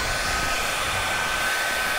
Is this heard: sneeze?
no